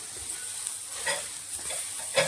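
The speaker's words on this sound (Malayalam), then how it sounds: "ഇത് നന്നായിട്ട് നമ്മൾ വറുത്തെടുക്കണം" Grated coconut dry-roasting with curry leaves in a pan without oil, a steady soft sizzle with scraping stir strokes, two sharper stirs standing out near the end.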